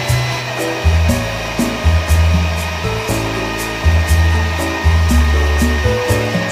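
An electric mixer whirs in steady pulses while beating a cheese-and-milk sponge cake batter, a loud close motor hum with rhythmic changes in pitch and no talking.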